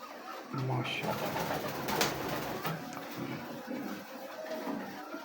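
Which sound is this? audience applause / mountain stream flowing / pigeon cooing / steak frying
pigeon cooing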